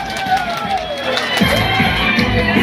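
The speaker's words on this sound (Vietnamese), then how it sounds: "quý vị có thể dành thêm cho một tràng pháo tay thật lớn không ạ?" Wedding guests cheer and clap, a loud crowd roar of voices and shouts with applause mixed in, building slightly toward the end amid babble and whoops.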